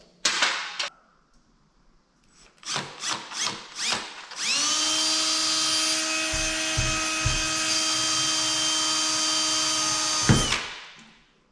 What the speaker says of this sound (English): There, I just have to drill some holes.